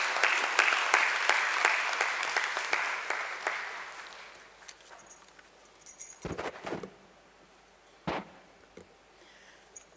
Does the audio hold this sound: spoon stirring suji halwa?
no